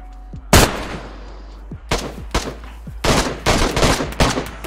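Gunfire in the video game DayZ: a sharp single shot followed by bursts of rapid shots that grow denser toward the end, loud and close, with no talking.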